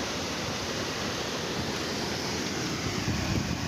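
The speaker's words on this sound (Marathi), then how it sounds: "पाहू शकता पूर्ण पाण्याचा जोर आणि फोर्स इकडे प्रवाह आहे." Floodwater rushing through a village near a road with great force, a dense continuous roar of flowing water, loud and unbroken throughout with no voices.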